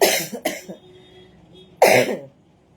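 A person coughs indoors in short bursts, a quick pair at the start and another harsh cough near the end, close and fairly loud with quiet between.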